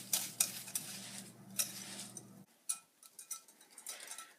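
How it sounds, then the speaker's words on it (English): A whisk mixing a historical butter beer mixture, with quick light scraping and tapping strokes against the bowl, fairly faint, plus a low steady hum in the first half that drops away. "Claire actually mixed them up with this whisk."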